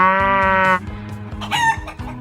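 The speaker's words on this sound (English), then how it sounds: "This is a hen. Hens lay eggs too." A farm hen clucks loudly and close by, opening with a drawn-out harmonic call, then a run of short, choppy clucks and a brief squawk, with no voices.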